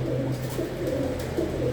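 Soft, repeated pigeon cooing carries on steadily throughout, a low murmuring burble with no talking.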